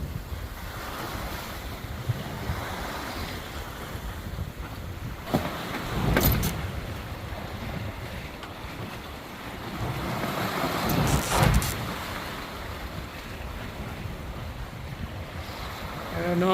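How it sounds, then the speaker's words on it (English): Big waves on the Great Lakes near Harbor Beach, after three days of north wind, wash and break around a sailboat, with steady surf, heavy wind noise on the microphone and two louder surges. "but these are some big waves"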